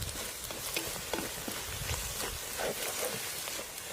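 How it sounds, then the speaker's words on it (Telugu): Onions frying with curry leaves stirred in a pan for gongura chicken, a steady close sizzle with crackling pops and occasional stirring scrapes throughout. "ఉల్లిగడ్డలు 4-5 నిమిషాలు వేగిన తర్వాత కొంచెం కరివేపాకు వేసి కలుపుకుందాం."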